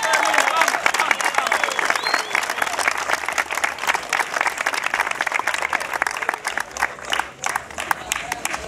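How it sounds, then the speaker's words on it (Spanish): An audience at an anniversary event for a sports league breaks into loud, continuous applause with some cheering, the dense clapping holding strong before briefly dipping near the end. "Un aplauso, eh, aplauso"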